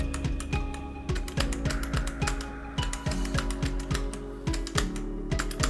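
Rapid, rhythmic key presses on a computer keyboard, two keys tapped in time with the music of the rhythm game A Dance of Fire and Ice, steady clicks over a loud backing track with no talk.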